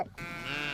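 A single sheep bleats in a barn, a short, close, wavering cry after a faint breath-like onset.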